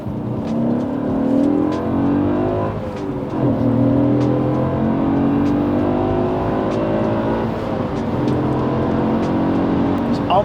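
A modern classic car's engine revs and pulls through gear changes from inside the cabin, with a steady rising drone that dips briefly at each shift while someone talks over it.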